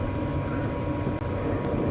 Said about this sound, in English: You can hear that, right? Are they Russian aircraft?